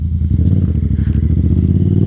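A Yamaha FZ-07 motorcycle engine idles with a rough, loping burble, steady and close, with a slight rise in revs partway through.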